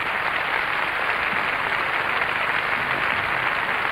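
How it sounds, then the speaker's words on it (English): Steady, dense applause from a large Eurovision audience in Paris, 1978, greets the Irish musical director, a loud, even wash of clapping with no voices above it. "The applause now for the musical director, first of all."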